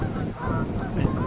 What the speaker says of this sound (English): and there's Canadian geese taking off.